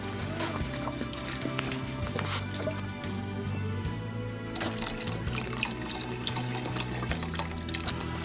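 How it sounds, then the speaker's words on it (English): Bone broth poured into a soup pot, a steady splashing liquid stream running close and continuous, with a light underlying hum. "so now we're going to add our bone broth"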